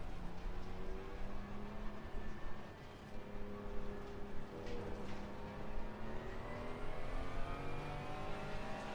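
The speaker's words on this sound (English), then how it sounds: "You can hear the turbo spooling" A car engine whines and climbs in pitch with a rising turbo whir, steady and fairly close, no voices.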